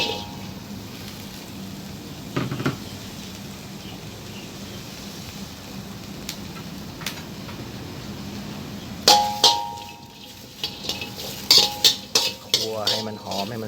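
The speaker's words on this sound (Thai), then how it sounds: "ทีนี้มันก็จะมาขั่วพริก นี่ครับ หอมแดง พริกกระเทียม" Chili, shallots and garlic are stir-fried in a pan: a low steady sizzle runs underneath, then a metal spatula clanks and scrapes repeatedly against the pan in close, sharp strikes.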